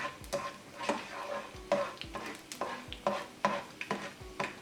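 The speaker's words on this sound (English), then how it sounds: "these almonds fry very quick, less than a minute" Almonds fry in hot oil for a sweet sheer khurma dessert, with a steady sizzle and a regular rhythm of scraping stirs, about one every half second, close and clear with no voices.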